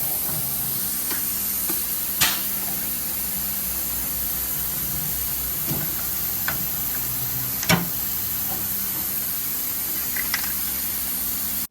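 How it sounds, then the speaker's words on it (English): A can of spray graphite hisses steadily as it coats the face of a valve in a machined Ford Y-block cylinder head, with a few faint ticks and clicks around the continuous spray. "a can of spray graphite, and he's going to put that on the face of the valve"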